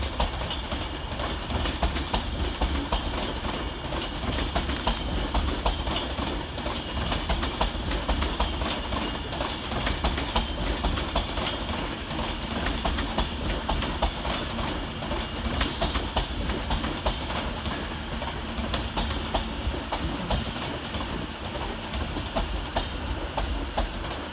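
An Avanti West Coast Class 390 train runs through Carlisle station with a steady, loud rumble and repeated clickety-clack of wheels over rail joints for the full length, with no talk.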